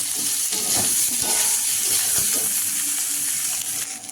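Potatoes hitting fried spice paste in a hot pan, a loud steady sizzle with scraping, stirring knocks and bubbling close by, no talk.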